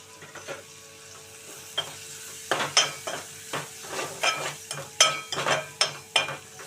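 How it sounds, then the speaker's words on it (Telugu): Chopped onions with curry leaves fry in a pan while a spatula stirs them, with a quiet sizzle under a run of sharp, irregular scrapes and clanks against the metal that grow busier over time. "ఉల్లిపాయ ముక్కలు మనకి మెత్తగా వెళ్ళేంత వరకు వేయించుకుంటే సరిపోద్దండి"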